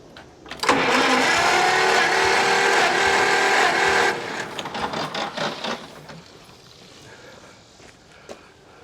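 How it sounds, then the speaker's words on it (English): An engine cranks over on the starter during a compression test with a loud, even rhythmic churning for about three seconds, then stops and a few clunks and rustles follow. "Let me do a couple more cranks and then crank around to the other side."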